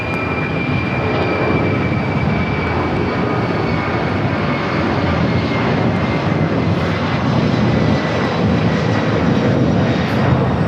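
An airliner taxiing onto a taxiway at LAX gives a loud, steady roar and whine from its engines. The sound stays constant and close throughout, with no speech.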